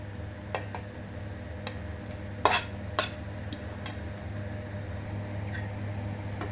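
Grated cabbage, besan flour, salt and oil tipped into a mixing bowl for Gujarati cabbage muthia, giving a few soft clinks and light taps at moderate volume against a steady low hum, with two sharper knocks near the middle.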